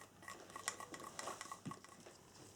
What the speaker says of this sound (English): Trying to scrape out of as much of it as possible.